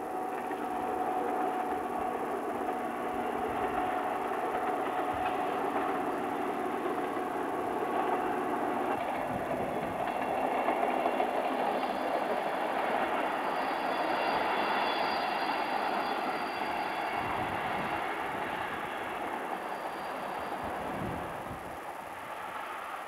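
An RGP railcar train runs on the Cévenol line through the Cévennes, giving a steady rolling rumble and engine drone that swells slightly midway and holds for over twenty seconds, no voices.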